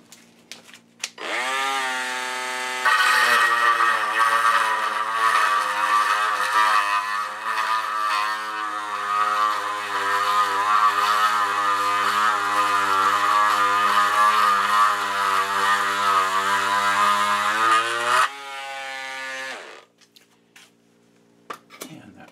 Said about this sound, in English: this is the Craftsman cordless C3 multi-tool, and we can see how this works here